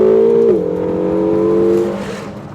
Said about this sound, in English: this twin-turbo V8 develops its power more like a naturally aspirated V8